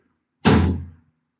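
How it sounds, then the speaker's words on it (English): A single close door shuts with a sharp, solid thump that fades quickly into silence. "I want to close the door."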